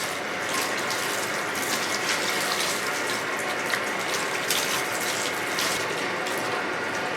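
Water rinsing product out of hair in a salon, a continuous steady broadband hiss and splash of running water, close and even throughout with no talk.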